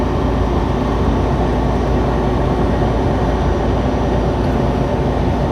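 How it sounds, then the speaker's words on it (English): A train rolls past near a big rig driving on a road in Tennessee, a steady, loud broadband rumble that holds evenly throughout with no talk. "A lot of trains out here."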